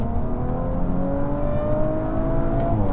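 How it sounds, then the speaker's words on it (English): An Audi RS5 engine drones steadily with a rising whine as its turbos spool up, continuous and close throughout, no voices. "You can hear the turbos winding up, it's crazy."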